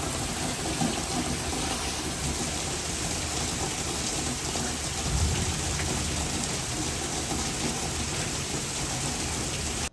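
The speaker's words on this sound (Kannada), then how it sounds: "ಏನು ಅಂತ ನೋಡಿದ್ರೆ ಅಲ್ಲಿ ನೋಡ್ತಾ ಇರ್ಬೋದು ಜೋರಾಗಿ ಮಳೆ ಬೀಳ್ತಾ ಇತ್ತು" Heavy rain pours down in Texas, a dense, steady hiss that stays loud and unbroken the whole time, with no voices.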